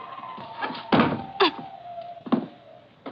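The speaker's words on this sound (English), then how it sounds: "I pushed her body into the closet next to the body of Mr. Field and closed the door" A closet door closes as a sound effect in a 1946 radio drama, giving several dull wooden thunks and knocks spaced irregularly over a faint steady tone.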